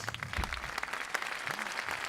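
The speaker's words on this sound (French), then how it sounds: "Je vous demande de l'applaudir parce qu'elle a répété." Applause from the audience at the Prix des Neiges 2018 award ceremony, a lively crowd clapping continuously with a few voices and cheers rising briefly out of the sound.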